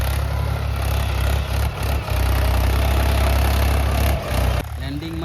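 A Jeevo tractor engine runs steadily in a jowar field, its low, loud rumble continuous and close, with a voice talking over it.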